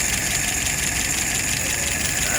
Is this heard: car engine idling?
yes